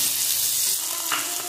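Mixed vegetables stir-frying in a pan for chicken chowmein, a continuous close hiss and crackle with faint scraping of stirring throughout.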